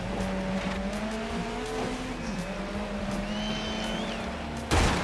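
Touring cars racing on a wet track in GRID Legends, a steady close engine drone with gear-shift dips and faint tire squeals, ending in a sudden loud burst like an impact.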